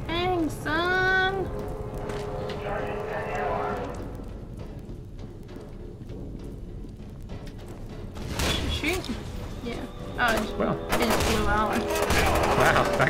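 Shotgun blasts and gunfire in FEAR 2, loud bursts scattered across a busy game soundscape, with voices talking over parts of it.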